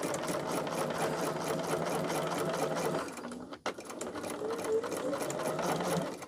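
A sewing machine runs steadily while stitching along a seam line, a continuous close whirring hum that breaks off briefly in the middle and then resumes at the same pace.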